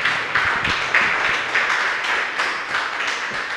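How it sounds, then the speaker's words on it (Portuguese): A church congregation applauding together: dense, sustained clapping from many hands that swells in faint pulses and holds steady with no voices over it. "Dê um aplauso ao Senhor por isso."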